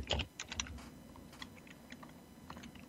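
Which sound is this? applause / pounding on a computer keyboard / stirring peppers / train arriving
pounding on a computer keyboard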